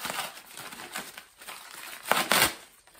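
Green paper being unwrapped from a bundle in a basement in Bulgaria, crinkling and rustling close by in uneven bursts, loudest near the end, with no talk.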